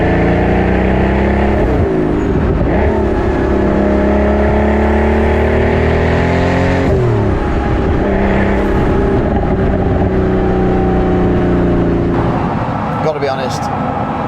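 A McLaren P1 hypercar engine revs repeatedly with rising and falling pitch, loud and close, its harmonics sweeping up in bursts while speech overlaps at times.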